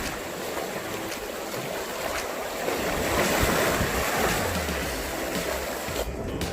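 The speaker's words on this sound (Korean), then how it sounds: "지금 막 포인트 진입 전에 파도가 엄청납니다" Heavy sea surf roaring continuously with rushing water and wind buffeting the microphone, loud and close, no voices.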